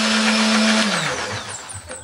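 A kitchen blender grinds shallots, garlic and red chili with a little water into spice paste, its loud motor whirring steadily and then spinning down near the end.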